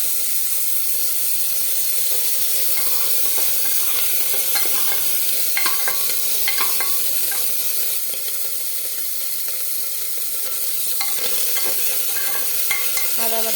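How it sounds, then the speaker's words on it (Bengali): Ginger paste and tomato fry in a hot pan while being stirred, giving a steady close sizzle with intermittent scraping and clinking strokes, no voices. "আদা বাটা টমেটো দিয়ে একটু ভালো করে নেড়ে নেব"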